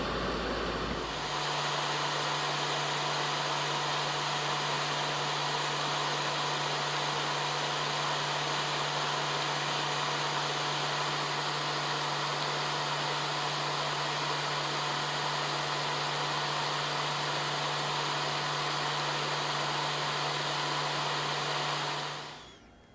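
A hot-air rework station blows a steady, even hiss with a faint constant hum throughout while solder is reflowed on the microprocessor pins of a GM truck cruise control module, then it cuts off at the end.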